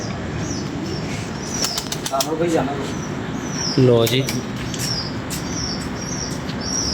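A pigeon beats its wings in several quick flapping bursts close by, over steady background noise, with someone briefly speaking and faint coos around it.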